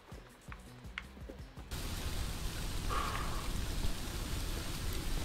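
Steady rain falling outdoors at night, a broad even hiss that swells in after a quieter start with faint ticking, continuing alone without voices.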